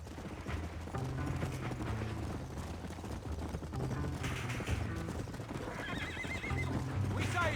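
In Red Dead Redemption, a horse whinnies loudly and its hooves clop in a steady galloping rhythm, layered with game sounds and a speaking voice throughout.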